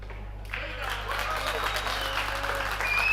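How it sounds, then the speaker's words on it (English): Spectators at the Predator European Pool Championships clap in the background: a steady, moderate patter of applause that builds slightly, with commentators talking over it. "that clapping in the background will maybe spur him on or put extra pressure on"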